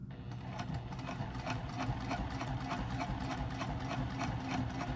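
A sewing machine top stitching a fabric triangle pyramid wristlet pouch, running steadily with a fast, even mechanical needle rhythm throughout, close and moderately loud, with no talking.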